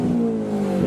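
Fiat 500 and Lamborghini Murcielago engines revving against each other: a loud, sustained droning engine tone that holds steady through a brief moment, close by.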